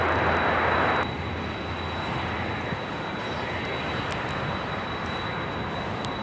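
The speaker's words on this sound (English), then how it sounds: "Another United Dreamliner arrival here on the south side." A United Boeing 787-9 Dreamliner arriving on the south side at Los Angeles International, a steady broadband jet roar at moderate distance that is loudest in the first second and then settles to a softer, even rumble with a thin whine above it.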